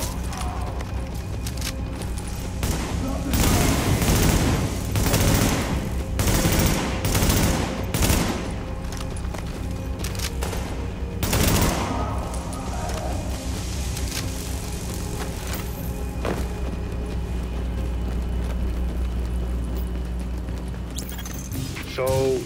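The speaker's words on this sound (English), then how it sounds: "So, that shooting, that was you, right?" Gunfire in The Division, a subway morgue setting, with several loud bursts of automatic shooting in the first half, then sparser shots over steady low game ambience and machinery hum.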